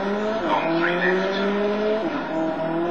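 A world-championship rally car in the video game WRC 4 revs hard, its engine note climbing and shifting while tires squeal through corners, loud and continuous.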